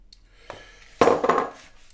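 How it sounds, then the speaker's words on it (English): Crushed biscuits being stirred into butter for a no-bake cheesecake base, a light tap and then a brief, close scrape of a utensil through the crumbly mixture. "I'm going to stick the butter in. I'm just going to mix it together."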